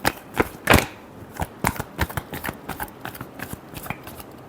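Tarot cards being shuffled by hand, a run of crisp riffling bursts and soft slaps in an uneven rhythm, close and clear with no voices.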